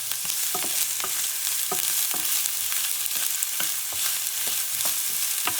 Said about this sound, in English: let's go with the onions. And I'm going to stir them a little bit so they don't get burnt.